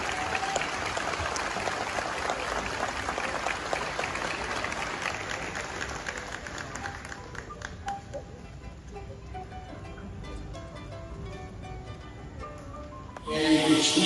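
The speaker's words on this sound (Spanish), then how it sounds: "Fuerte aplauso a los jóvenes entonces." A church audience gives the young people a loud, sustained round of applause that gradually thins out into scattered claps, followed by a brief burst of sound at the end.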